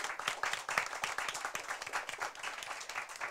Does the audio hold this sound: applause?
yes